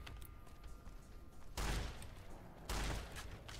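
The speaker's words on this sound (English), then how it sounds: "Yeah, shotgun's better from the hip." Two heavy shotgun blasts sound in the Fallout: New Vegas video game, about a second apart and each with a short booming tail, over a steady, faint background hum.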